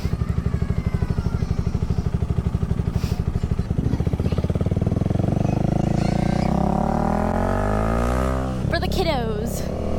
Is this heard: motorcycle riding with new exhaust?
yes